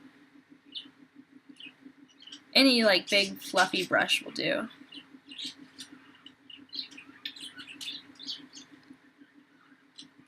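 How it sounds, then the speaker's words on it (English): Small pet birds chirp and tweet in high, scattered bursts through a room while someone speaks over them, the calls moderately loud and close. "Sorry about my birds."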